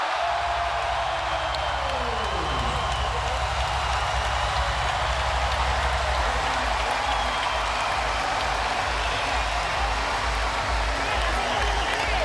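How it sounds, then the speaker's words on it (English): Boxing crowd roaring and cheering in an arena in Macau during the 2013 Manny Pacquiao versus Brandon Rios fight, a dense steady wall of loud cheers and applause throughout with a commentator talking over it. "The crowd loves it. They're on their feet in Macau."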